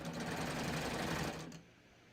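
A sewing machine runs a cover hem along a knit tee, a steady loud mechanical whirr that carries for about a second and a half before stopping abruptly, leaving near silence.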